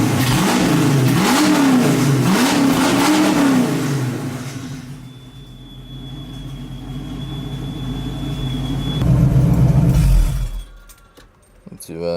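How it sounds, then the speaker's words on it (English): A Ford Fox body Mustang 5.0 V8 idles a bit high, loud and rumbling through long tube headers and an open X-pipe, with a wavering rev early on, then a steadier idle and a thin whine, recorded close. "It idles a bit high, and it's loud because right now it's just the long tube headers and an open X pipe"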